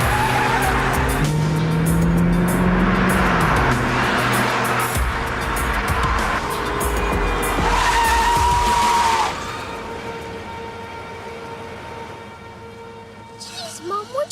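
A car in a movie chase is driven evasively, its engine roaring and tires squealing loudly in long skids, with a siren wailing behind; the engine noise drops away near the end.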